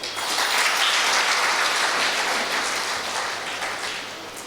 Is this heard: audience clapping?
yes